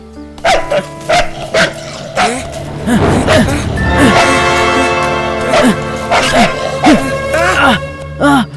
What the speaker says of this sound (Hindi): कुत्ते ने काट लिया